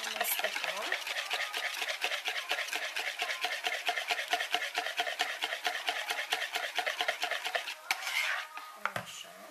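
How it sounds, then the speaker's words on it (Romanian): A spoon scrapes and stirs pea sauce in a metal pot: a rapid, steady rhythmic clinking and rubbing that continues for several seconds, then a pause and a few final knocks. "Și amestecăm."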